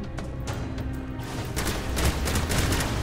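Rapid gunfire from a weapon in the co-op video game Bombshell, a quick run of sharp repeated shots that thickens into a denser burst partway through, with game noise underneath.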